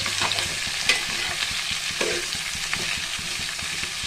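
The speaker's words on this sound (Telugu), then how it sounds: "ఇవన్నీ మంచిగా ఒక్కసారి ఫ్రై చేసి ఒక 2-3 మినిట్స్ ఉడకనండి. ఆయిల్లోనే ఈ తాలింపులోనే కాయ ఉడకనండి." Ash gourd pieces frying in hot oil with a seasoning tempering, a continuous sizzle with regular clinks and scrapes of a spoon stirring the pan, close up and without any voice.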